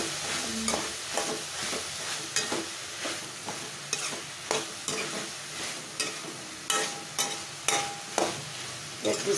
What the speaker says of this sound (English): Stir this very well.